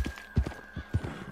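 Horse hooves clip-clopping in Red Dead Redemption 2, a few soft thuds spaced through a short stretch, with a faint whinny-like tone and a steady high hum behind, no talk.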